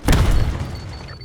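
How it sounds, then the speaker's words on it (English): Concussion grenade blast in Call of Duty Black Ops 6 multiplayer, a single loud low boom that swells quickly and then rumbles and fades over about a second. "Concussion grenade out!"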